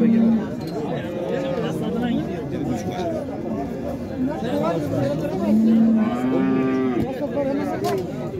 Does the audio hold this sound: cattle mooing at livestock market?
yes